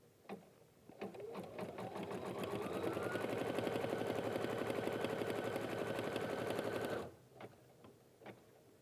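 An embroidery machine stitches fabric down in the hoop for a gift bag, a steady rapid mechanical chatter running about six seconds after a few clicks, then stopping with a couple of faint taps afterward.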